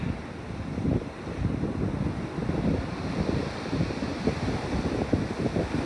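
Sea waves wash and surge along a park shoreline at high tide, a continuous rolling roar mixed with gusty wind buffeting the microphone, steady and fairly loud with no voices.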